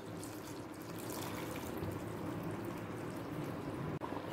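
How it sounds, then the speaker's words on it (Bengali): Hot water poured steadily into a pot of chicken curry on a gas flame, a soft continuous splashing hiss heard up close, with a small clink near the end. "আরও হাফ কাপ জল দিয়ে দিচ্ছি"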